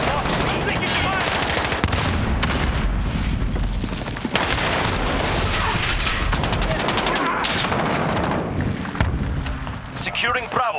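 Dense, loud gunfire from a video game firefight, rapid continuous shots and booming blasts filling the whole stretch, with game voice callouts mixed in.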